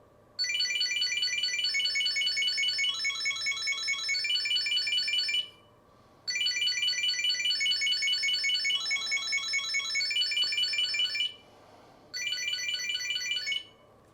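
A Chipolo Card item tracker rings loudly in three long bursts of rapid, high electronic chirping, with short silent gaps between them. No voices are heard.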